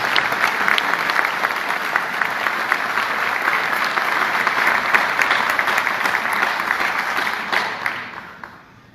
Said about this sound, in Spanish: Yo pido un aplauso para él por todo el esfuerzo.